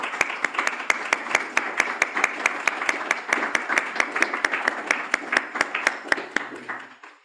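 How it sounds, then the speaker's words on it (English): A round of applause from a small group at an online talk, with sharp, evenly spaced claps in a steady rhythm that continue briefly before stopping. "Can everyone please give her a round of applause?"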